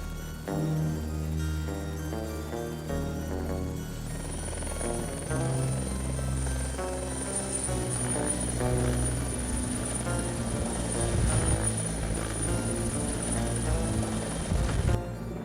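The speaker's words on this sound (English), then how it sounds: "Shortly after the choppers take off" Steady helicopter rotor and engine drone as helicopters take off, loud and close, with a high whine setting in partway and a faint voice underneath.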